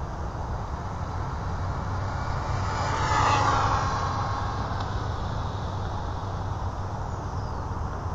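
An RC car on a high speed run, its motor whining steadily and rising to a louder pass in the middle before easing back, over a constant broadband rumble with no talk.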